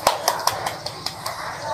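Classroom applause for a student group during a demo teaching lesson, a short run of evenly spaced claps fading over under two seconds.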